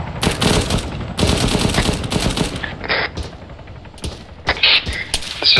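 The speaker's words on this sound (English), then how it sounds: "we're just taking fire from the east" Dense automatic gunfire rattles in long bursts in an ARMA 3 battle sim, loud and close, then breaks into scattered single shots and short volleys, with a voice faintly under the firing.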